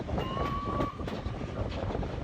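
The Flying Scotsman steam train arrives into Haworth Station, with a continuous rolling rumble of wheels and carriages, a thin squeal of wheels on rail and crowd noise around it.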